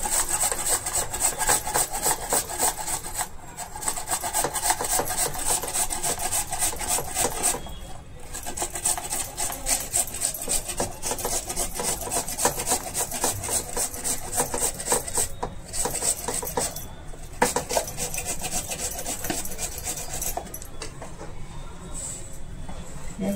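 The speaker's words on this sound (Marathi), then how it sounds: "तर चला आपण किसणीमध्ये किसून घेऊया बटाटे." Peeled potatoes are rubbed back and forth over a hand grater in a home kitchen. The rasping scrape is steady and continuous, close and fairly loud, with brief breaks to reposition.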